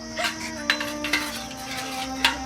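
Metal pots and dishes clink and clatter in a few sharp knocks over a steady ringing hum while food is put on to cook in a village kitchen.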